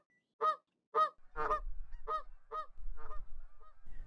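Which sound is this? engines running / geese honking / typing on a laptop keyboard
geese honking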